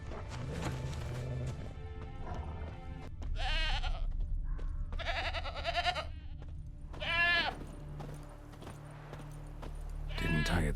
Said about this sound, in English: there is the goat